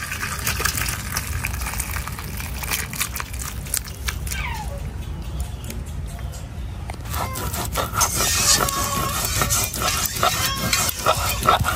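Cooked country chicken curry with red gravy being poured and scraped out of a pot, a continuous loud scraping and sloshing of a spoon against metal, close up, with no talk.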